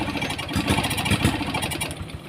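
A Honda Supra X 125 motorcycle engine runs roughly and unevenly at close range, with a low, uneven throb that keeps going for the whole stretch.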